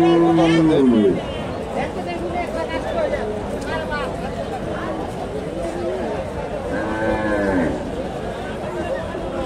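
Sahiwal and crossbreed cows lowing at a cattle market in Bogura: several drawn-out moos, one loud and near at the start and more further off, over a background of crowd chatter and voices.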